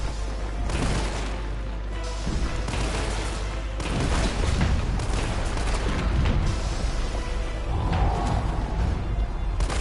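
A burst-fire pistol in Resident Evil 3 (2020) fires repeated bursts of shots that blend with booming, dense game combat noise, loud and continuous throughout.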